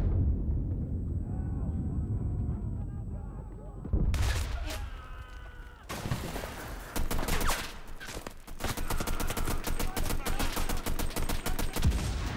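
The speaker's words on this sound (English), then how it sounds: "A grenade launcher?" Gunfire and explosions during a Normandy campaign battle in the video game Enlisted, including grenade launcher fire: a quieter stretch, then bursts of rapid shots and loud blasts in dense, overlapping volleys, close and heavy.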